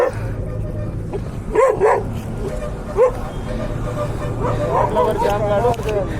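Two dogs on a motorbike holiday ride in Hyderabad bark and yip close by in short bursts, with whimpering, while people talk and traffic hums in the background.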